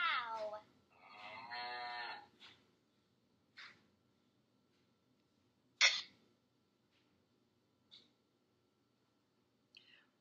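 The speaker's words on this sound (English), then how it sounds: "It's a cow." A cow lets out a short, close moo with a strong tonal sweep, followed by a few scattered clicks and faint ticks in otherwise near silence.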